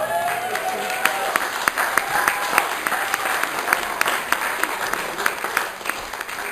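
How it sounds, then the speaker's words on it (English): Wedding reception guests give a warm, sustained round of applause for the church singer, dense clapping from a room full of people with a few sharper claps standing out near the front. "a very special and warm round of applause for our excellent singer in the church today, Clara"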